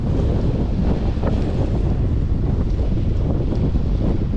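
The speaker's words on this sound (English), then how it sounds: "here's the rain, and it's cold and it's windy, as you can hear" Strong wind buffeting the microphone on an exposed coast in cold rain, a constant loud rumbling roar with surf blended in beneath it.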